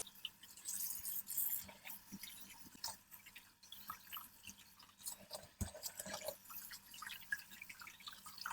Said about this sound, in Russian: Теперь надо хорошенечко промыть все это мясо под проточной водой.